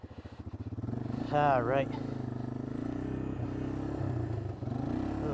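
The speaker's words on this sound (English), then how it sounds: "Running way better, just a little on the low idle side." A Honda FourTrax 300 ATV engine, freshly rebuilt after a carburetor clean, idling on the low side: a close, steady putter with a brief vocal sweep and a short spoken word over it.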